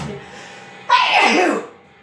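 A single sharp sneeze bursts out close by, brief and loud, with near silence before and after.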